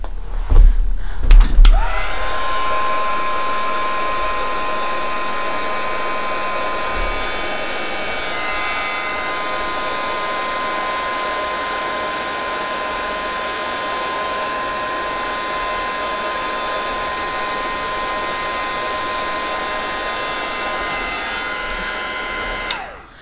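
A hair dryer switches on after a few clicks and blows steadily with a loud, even whirring hiss, running alone for about twenty seconds before cutting off.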